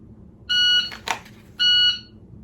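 Two loud, electronic tonal beeps from a shot timer about a second apart, with a sharp gunshot-like crack between them, in a quiet dry-fire practice setting.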